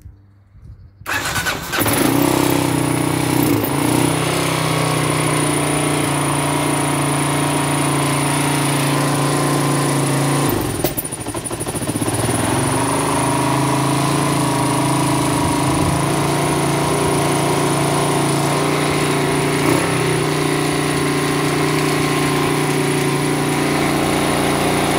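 A restored Kawasaki KLR 650 motorcycle engine, choke pulled, cranks and catches within a second, then runs on at a loud, steady idle close by for the rest of the clip.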